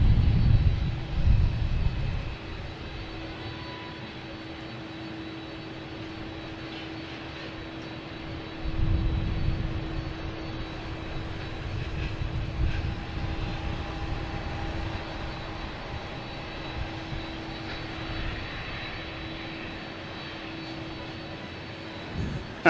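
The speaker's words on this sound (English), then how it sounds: "We have Delta heading back to Heathrow. Flight 58. A330-900." A Delta Airbus A330-900 airliner departing Boston Logan Airport produces a low rumbling jet roar with a steady tonal hum, swelling in bursts at the start and again midway before settling into a sustained distant drone.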